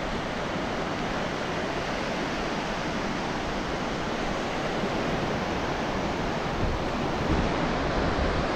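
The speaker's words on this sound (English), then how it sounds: "Very nice beach." Surf on Rajbag Beach in Goa rolls as a steady, dense wash of waves, continuous and fairly loud with no pauses or voices.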